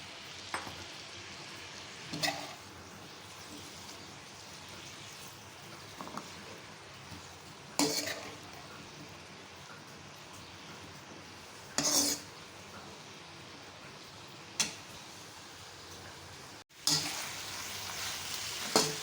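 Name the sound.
okra and onions frying together in a pan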